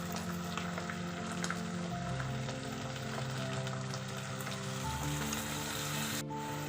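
Tofu sautéing in a pan with tomato sauce and dark soy sauce gives a steady, close sizzle and fry that runs unbroken, with low cooking noise underneath and no talking.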